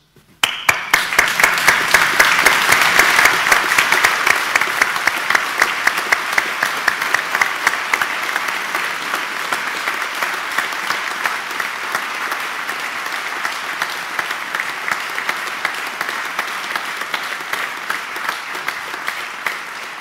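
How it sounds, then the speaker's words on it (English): Graduating students in an international management programme stand and applaud their loved ones at the ceremony, a loud, sustained ovation from a large crowd that starts abruptly and holds steady, with the clapping thinning slightly toward the end. "I would like all the students to stand up and give your loved ones an applause"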